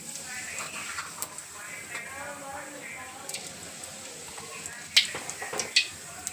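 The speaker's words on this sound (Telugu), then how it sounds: "ఆయిల్ వేసి జీలకర్ర వేసాను" Cumin seeds sizzle in hot oil for a traditional country chicken curry, a soft, steady frying hiss with a few sharper crackles near the end, heard under someone talking.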